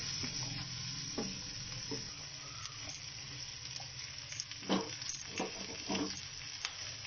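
Carrots and other vegetables sautéing in a pan for chicken moti pulao, with a steady sizzle and occasional stirring scrapes, close and continuous.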